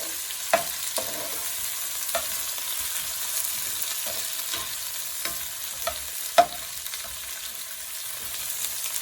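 Onions sizzle and crackle steadily in a hot pan, with occasional clinks and scrapes of stirring, no voices.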